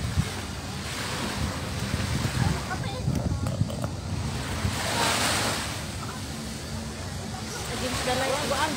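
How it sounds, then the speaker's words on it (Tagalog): Sea waves at Butterfly Beach wash in continuously with broad surf noise, close and fairly loud, mixed with wind buffeting the microphone and occasional voices talking over it. "Medyo lubog pa ang dagat."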